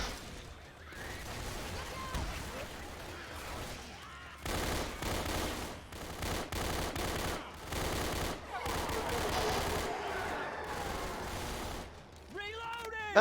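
Rapid bursts of gunfire from a shooter video game crackle in quick volleys, some in dense automatic strings, with a voice talking over parts of it.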